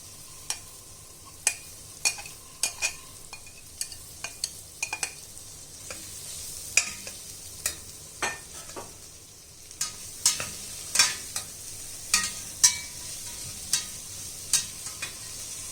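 Cut ivy gourd frying in a pan with two sprigs of curry leaves, steady soft sizzle under sharp, irregular clacks and scrapes of a spoon stirring, close by with no talking.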